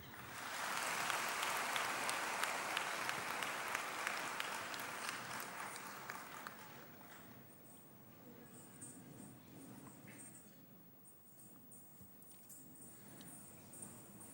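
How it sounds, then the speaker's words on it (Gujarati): Audience applause at a government event with the Chief Minister attending on financial inclusion, a dense, steady wash of clapping that fades gradually into scattered, quieter claps, heard at a low, distant level. "ખૂબ તાળીઓ."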